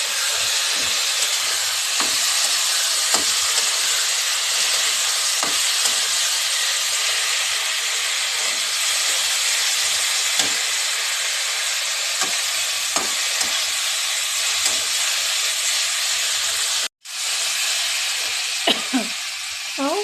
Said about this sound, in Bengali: তো মশলাটা দিয়ে ভালো করে কষিয়ে নেব।